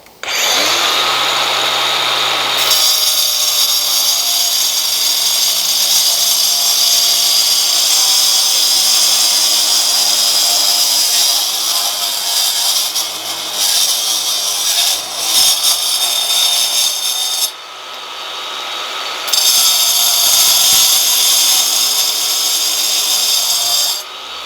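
An angle grinder cuts through steel rebar, a loud, continuous high-pitched whine and grind that keeps going, with brief dips in load as the disc works through the bar.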